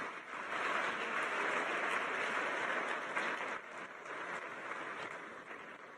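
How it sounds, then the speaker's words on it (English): Audience applause at an opening ceremony of a Transform Africa summit in Rwanda, a sustained crowd of many hands clapping at moderate distance, thinning slightly partway through. "Can we give them a round of applause as they make their way?"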